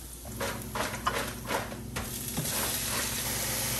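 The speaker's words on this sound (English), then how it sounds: "You have to burn the garlic before you put that thing on." Garlic frying in oil in a pan during home cooking, a steady soft sizzle running alone throughout with a few faint clicks of utensil stirring.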